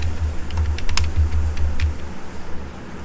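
Someone types a prompt on a computer keyboard, quick close key clicks in a steady burst that slows and stops near the end.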